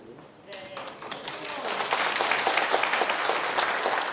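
An audience at a local council member's talk event breaks into clapping, starting sparse and building into a thick, steady round of applause from many people, with a voice faintly heard at the start.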